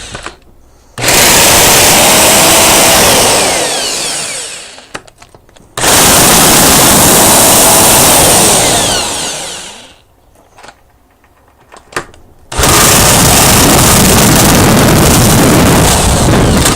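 A pneumatic impact wrench hammers lug nuts tight on a Huskee mudding lawn mower wheel in a star pattern, three loud sustained buzzing bursts separated by brief pauses, close up with no talking.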